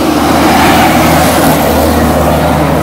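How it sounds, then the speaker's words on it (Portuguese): A truck passes along a street, a loud, continuous broadband engine and road roar that fills the moment close to the listener, steady throughout and slightly easing toward the end. "Olha o caminhão aí, olha o caminhão. Opa! O caminhão vai"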